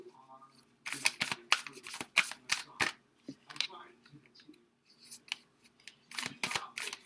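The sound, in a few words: shuffling tarot cards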